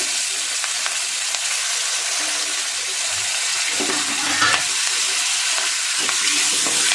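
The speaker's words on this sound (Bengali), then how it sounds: "তেলটা ভাজা হয়ে গেছে, এই যে কয়েকটা কারি পাতা দিয়ে দেবো।" Continuous hissing sizzle of curry leaves frying in oil, with a few soft stirring knocks partway through.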